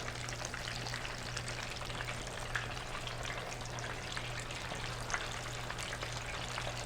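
Chicken pieces fry steadily in hot grease for crispy fried chicken, a dense, even crackle and sizzle with a low hum underneath and occasional sharper pops, close by with no voices.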